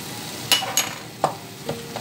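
Beef liver with mustard cooks in a pan, a soft bubbling simmer broken by several sharp clinks and scrapes of a utensil against the pan, close and without voices.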